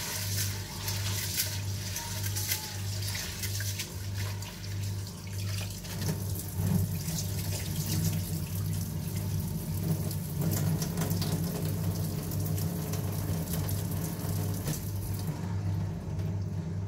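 Tap water runs steadily into a sink while cow intestines are washed, a continuous splashing hiss with a low steady hum beneath it, alone and moderately close.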